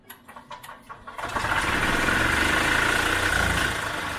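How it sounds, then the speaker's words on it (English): A gas-powered EZGo golf cart engine with a new fuel pump and cleaned carburetor sputters through a few cranking pulses, then catches and settles into a steady, loud running drone, close by. "I think we got a running golf cart."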